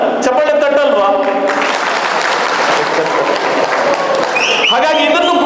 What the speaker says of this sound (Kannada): ಚಪ್ಪಾಳೆ ತಟ್ಟಲ್ವಾ?